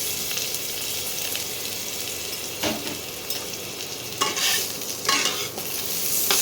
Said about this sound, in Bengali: প্রথমে আলুগুলো দিয়ে দেবো, আলুগুলো একটু ভেজে নিতে হবে।